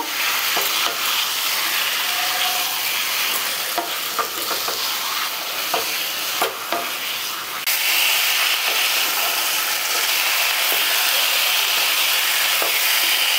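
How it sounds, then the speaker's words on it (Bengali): Meat and spices fry over low heat in a pan while being stirred, a continuous sizzling hiss broken by scraping and stirring knocks, loud and close throughout. "এবার ধিমে আঁচে মশলাটা আমি এইভাবে মাংসের সাথে মিশিয়ে দেব"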